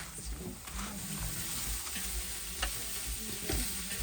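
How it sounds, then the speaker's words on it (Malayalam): Onion sautéing in hot oil in a pan while cooking a simple chicken curry in an African village, a steady close sizzle with occasional stirring scrapes and pops throughout. "ഇതിലേക്ക് നമുക്ക് ഇനി ഉള്ളി ഇട്ടിട്ട് വഴറ്റിയെടുക്കാം."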